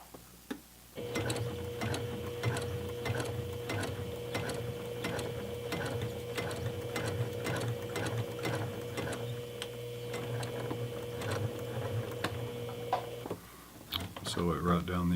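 A sewing machine stitches the pull tab of a fabric makeup bag, its steady rapid mechanical ticking running continuously for about twelve seconds before stopping, close and fairly loud.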